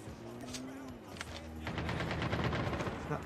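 Rapid bursts of automatic gunfire ring out in a Call of Duty Mobile match, the shots dense and continuous over a steady game backdrop, with some talk mixed in.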